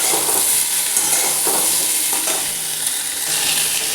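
Potato pieces frying with pointed gourd in a pan give off a steady, dense sizzle with occasional stirring scrapes, close and continuous throughout.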